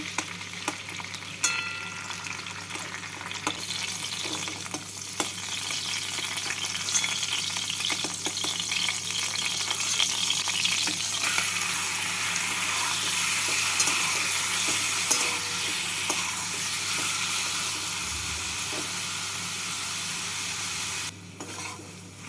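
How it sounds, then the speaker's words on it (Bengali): Prawns fry in hot oil in a kadai, in the same oil left over from frying pointed gourd. A close, continuous sizzle and crackle runs throughout, with no talking. "মাছগুলো ভাজা হয়ে গেছে"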